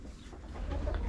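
Chickens cluck softly and irregularly close by in a village, with low rustling and a slight rise in level toward the end.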